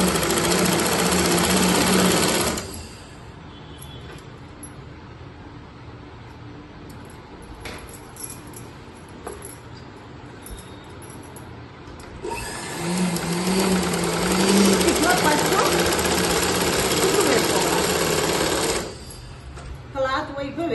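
Sewing machine stitching a saree petticoat runs in two loud bursts, one at the start and a longer one later, with a quiet pause between; close and steady whirring rattle.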